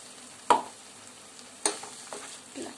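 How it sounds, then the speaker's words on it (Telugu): Masala paste frying in a pan for soya chunks curry over a medium flame, a soft sizzle with sharp spoon-against-pan scrapes and clinks from stirring, two distinct strikes and lighter scraping between. "పచ్చవాసన పోయేంత వరకు ఫ్రై చేసుకోండి"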